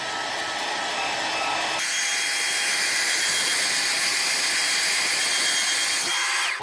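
A steady, loud rush of blowing air from a dryer drying a handmade topwater fishing lure, its tone shifting abruptly early on and again just before it cuts off.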